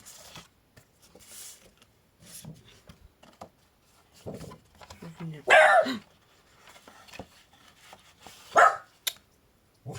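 A pet dog barks a few sharp times in a home setting during a sewing tutorial, with the barks rising above quieter background sounds and occasional talk.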